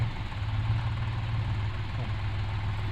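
A 50-horsepower New Holland 3.5 Plus tractor engine running, a steady low diesel rumble with a constant pulsing throb, close and unbroken throughout.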